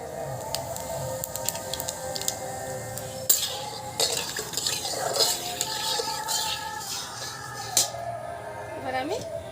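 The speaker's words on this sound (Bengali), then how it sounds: "এবার আমি সর্ষের তেল দিয়ে দেবো। এর মধ্যে কিন্তু আমি অল্প একটু জিরে ফোড়ন দেব।" Cumin seeds tempering in hot mustard oil in a pan, stirred with a metal utensil, giving scraping clinks and light spitting over a steady background; a voice talks faintly at points.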